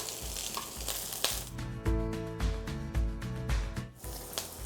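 Vegetables stir-frying in oil in a pan for Korean japchae, a steady close sizzle with bursts of clattering as the pieces are stirred and tossed, no voices over it.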